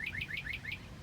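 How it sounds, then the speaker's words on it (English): A small bird chirps in a quick series of about five bright, rising tweets, faint and close by in a quiet room. "There's a bird right behind my mom."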